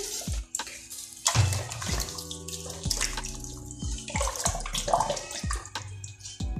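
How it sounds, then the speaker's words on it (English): Water from jars is poured over two chickens for brining, with close, uneven splashing and gurgling pours, several bursts and drips, and no talking. "We're going to add 2 jars of water."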